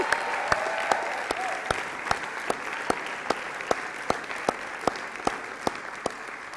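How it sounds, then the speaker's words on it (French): A congregation at a Sukkot gathering applauds steadily, a soft, even wash of clapping with a few sharper near claps ticking out a regular rhythm, with faint voices beneath. "on peut vraiment applaudir Catherine Pierre-Léandre ainsi que Stéphanie pour le grand travail d'organisation qu'elle"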